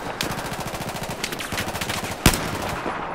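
Rapid automatic gunfire in Battlefield 4, a loud fast rhythmic burst that runs almost continuously, broken by one sharp heavier crack near the end, with no talk.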